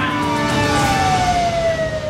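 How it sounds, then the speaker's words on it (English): A police car on neighborhood patrol passes with its siren wailing loud and close, the tone gliding steadily downward over about two seconds with traffic noise beneath. "A police car on neighborhood patrol extinguishes the fiery argument outside the restaurant."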